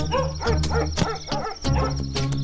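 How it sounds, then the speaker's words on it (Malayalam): A dog barks repeatedly at night during a suspected break-in, several short loud woofs in quick succession against a steady background hum. "അവിടെ എന്താ പട്ടി കുറയ്ക്കണേ?"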